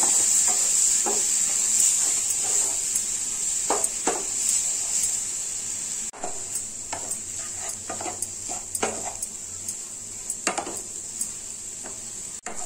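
Spoon scraping and stirring coconut laddu mixture with milk in a pan, a steady sizzle underneath broken by repeated clinks and scrapes against the metal, close and continuous.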